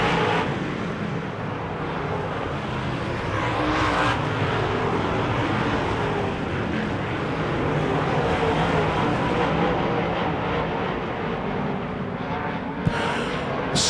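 Wissota modified race cars roar down the front straightaway of a dirt track, a dense continuous engine drone that holds steady throughout, with an announcer's voice talking over it.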